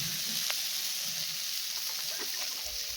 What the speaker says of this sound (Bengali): সবজিটা কিন্তু ভাজা হয়ে গেছে